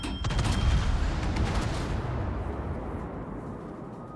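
Bombs strike a warship in World of Warships with a heavy, rumbling blast that opens with sharp cracks and then fades into a long, dull roar, loud and near.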